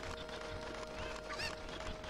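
Chicken clucking in The Legend of Zelda: Ocarina of Time, a few soft, brief squawks and clucks over a steady hum of game background sound, fairly faint.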